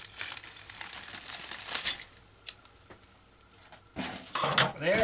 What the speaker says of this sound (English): Since the bag has never been opened, I'm going to get my scissors